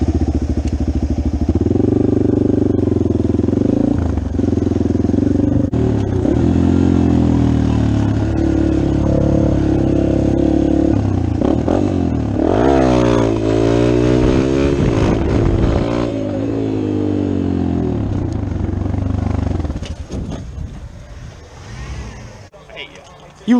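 A dirt bike engine revs loudly and close by, its pitch climbing and falling in repeated sweeps over a steady idle before it cuts out near the end, with voices talking over it.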